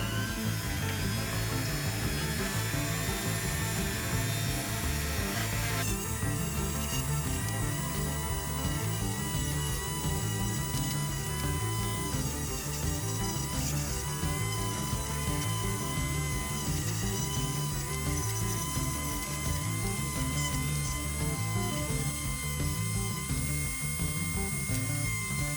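Power tool polishing the base of a corroded Matchbox 66E Mk 1 Ford Transit dropside pickup model, a continuous whirring grind with a steady pulsing motor hum that lasts throughout, with no talking.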